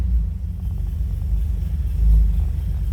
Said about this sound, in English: you can hear the idle go back down to low idle on it.